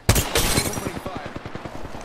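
Apex Legends gunfire: a loud burst opens, then rapid automatic shots follow in a steady rhythm, close and fading slightly, with speech faintly mixed in.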